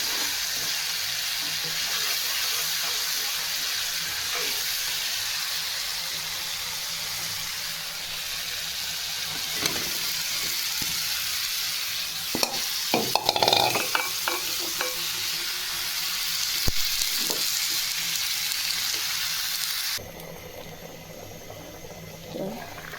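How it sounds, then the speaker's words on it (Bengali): Vegetables for a rohu fish curry frying with spices in a pan, a steady broad sizzle that runs throughout, with occasional stirring clatter near the middle and a quieter stretch at the end. "মশলা কষানো হয়ে গেছে, এখন সবজিগুলো দিয়ে দেব।"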